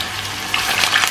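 Potatoes frying in hot oil for a Nasi Maqluba, a steady close sizzle with crackling bursts that grow louder toward the end.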